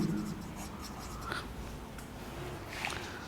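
Pen or marker writing on a board or paper during an accounting lesson on allowance for doubtful debts, a steady soft scratching texture with a few brief louder strokes, no talk.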